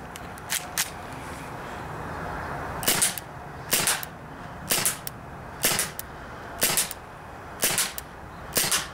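KWC Taurus PT99 airsoft pistol firing, a few sharp cracks followed by a regular series of short rapid bursts of snapping shots, close and loud.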